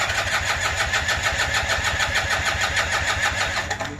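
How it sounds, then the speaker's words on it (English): A Polini 190 engine on an ATF ultralight trike cranks on a new starter and catches, a loud close pulsing chug that runs evenly before easing off at the end. "At least I knew the starter's working."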